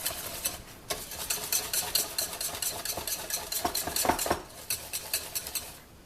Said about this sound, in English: It might look lumpy, but just beat it and the lumps will go.